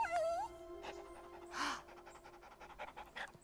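A dog panting in quick, soft breaths, with a brief high whine at the start, fairly close and quiet, with faint background sounds.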